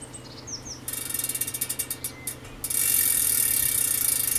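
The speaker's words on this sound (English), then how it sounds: "Ratchets quite well." A Campagnolo Athena bicycle hub ratchets steadily and close by as its axle is spun by hand, a quick run of even clicks that gives way to a faster, continuous buzzing whir.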